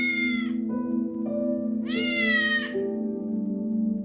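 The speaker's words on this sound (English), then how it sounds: "It's meowing at him like, meow, meow." A house cat meows several times in clear, close, drawn-out calls with rising and falling pitch, alone with no talk.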